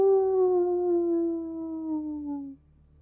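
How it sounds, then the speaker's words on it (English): A single long wolf howl rings out clearly, a smooth sustained tone sliding slowly downward for about two and a half seconds before cutting off into near silence. "Off in the distance, you hear a loud howl of a wolf."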